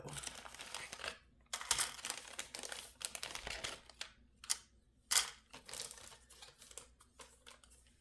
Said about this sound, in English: because these are the only other little baggies, I'm gonna put these in here also.